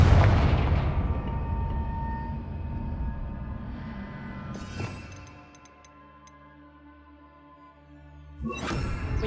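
Confringo fire spell explosion in the video game Hogwarts Legacy, a heavy booming blast that rumbles and decays over several seconds, followed by sharp magical cracks and chimes.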